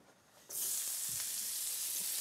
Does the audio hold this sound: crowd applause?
no